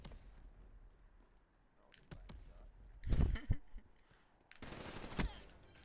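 Sudden bursts of rapid gunfire in Call of Duty: Black Ops III, two loud crackling volleys after a quieter stretch of game ambience, with a voice audible in the background.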